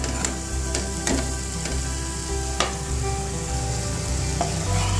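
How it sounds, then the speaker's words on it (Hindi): Fried okra goes into a pan of cooked onion masala for bhindi do pyaza, and the pan gives a loud, steady sizzle broken by a few sharp clicks of a spoon against the pan. "अभी मैं इसमें डाल दूंगी मैंने जो फ्राई किया था भिंडी को"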